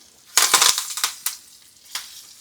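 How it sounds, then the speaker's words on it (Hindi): Tempering poured over creamy kadi curry, with curry leaves in the hot oil, gives a sharp burst of crackling sizzle that fades through a few smaller spits and pops, close and fairly loud with no talking. "और मैं करी के ऊपर एक छौंक लगा दूंगी।"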